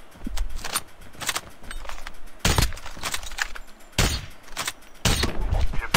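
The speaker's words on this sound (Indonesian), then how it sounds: "Oh, ada ramai tembak-tembak." Gunfire rattles in a Call of Duty Mobile battle royale match, with sharp bursts and sustained volleys cutting in and out at close to middle distance, loud against the game's background ambience.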